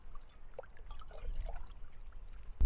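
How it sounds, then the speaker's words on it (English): Water trickles and pours softly into the outer cup of a filter purifier bottle at a lakeside alpine campsite, a faint, uneven stream with no talking. "I'm gonna fill this outer cup with water."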